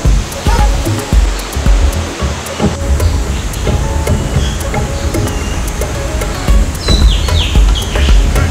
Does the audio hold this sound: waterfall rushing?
yes